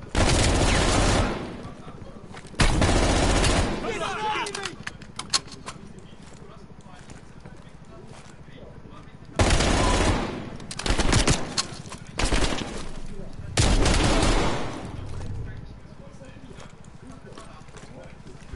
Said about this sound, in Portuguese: Manda fogo de supressão.